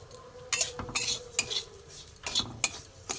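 Semolina toasting in ghee in a pan, stirred with a utensil that scrapes and clinks against the metal in several distinct strokes, with only a faint sizzle underneath and no voices.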